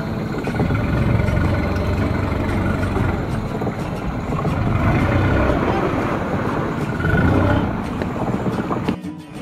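Boat motor running steadily through a swamp full of floating sticks, a loud continuous engine drone with dense low rumble that holds for most of the clip before cutting off abruptly near the end.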